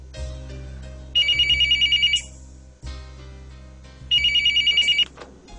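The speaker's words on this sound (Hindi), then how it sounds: "सुबह का चौथा फोन है" Two bursts of a telephone's electronic ringing, each about a second long with a rapid warbling pulse, separated by a short pause, heard in a home on the fourth call of the morning over a low steady hum.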